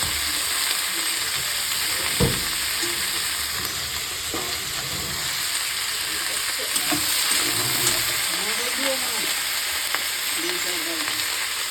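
Onions sizzle steadily in a hot pan, a constant crackling hiss with occasional stirring scrapes and a few faint voices in the background.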